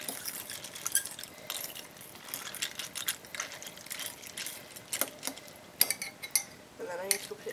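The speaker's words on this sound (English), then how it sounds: "Stir it together." A spoon clinks steadily against the inside of a cup while stirring boiling water with milk. The taps are close and quick and keep an uneven rhythm.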